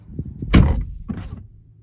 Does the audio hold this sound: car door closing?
yes